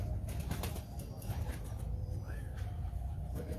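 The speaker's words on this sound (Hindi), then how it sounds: "तो ये है बड़ा 10 नंबर कबूतर।" A pigeon flaps its wings close by in short bursts of fluttering, with rustling and a low background rumble, and no clear talking.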